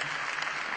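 Dense, steady applause from a large audience fills a hall at an awards ceremony, continuous and moderately loud with no talking over it.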